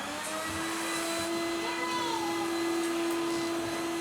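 A household vacuum cleaner runs indoors with a steady, loud whirring drone and a constant motor whine, unbroken from start to finish.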